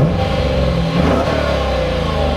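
A 2015 Dodge Challenger R/T Plus's 5.7-liter V8 with a 6-speed manual revs loudly and steadily up close, its deep engine drone continuous throughout with a slight surge midway.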